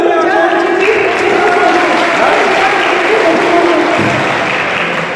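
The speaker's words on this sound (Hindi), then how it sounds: "एक बार जोरदार तालियां" Loud, sustained applause from the crowd at a community water-conservation awareness program in Kathua, a dense continuous wash of clapping close by, with a voice faintly audible over it.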